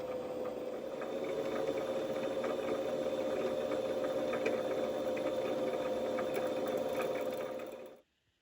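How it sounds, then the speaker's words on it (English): A sewing machine winding bobbins gives a steady mechanical whir that runs continuously at an even pitch for about eight seconds, then cuts off abruptly. No talking. "I'll wind a couple of bobbins."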